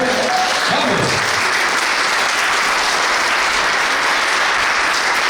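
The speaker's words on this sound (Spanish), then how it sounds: "Dale un aplauso al Señor." A church congregation applauds during a Spanish-language sermon, with steady, dense clapping that fills the room and holds at a loud level from start to finish, and no voice above it.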